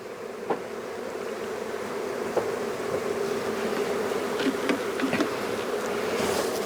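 Honeybees hum steadily in an open hive during queen-cell grafting work, a dense continuous buzz close by, with a few individual bees droning louder as they pass near.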